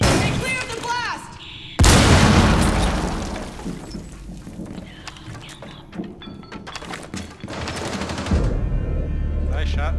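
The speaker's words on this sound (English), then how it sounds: "Stay clear of the blast!" A bomb blast erupts with a loud sudden boom in Rainbow Six Siege, followed by bursts of rapid gunfire and a long rumbling decay. Voices speak over the combat.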